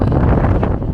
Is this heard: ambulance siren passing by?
no